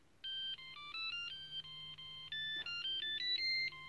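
Monophonic ringtone from a Garmin Navtalk GSM mobile phone with built-in GPS, a quick sequence of bright electronic beeping tones forming a melody, played alone, fairly faint and close.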